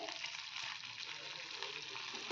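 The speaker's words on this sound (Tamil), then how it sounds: "இப்போ பார்த்தீங்கன்னா பட்டர் நல்லா மெல்ட் ஆயிடுச்சு" Butter melting and sizzling in a pan while bread masala is prepared, a soft, even, high hiss that holds steady throughout, faint and close with no talking.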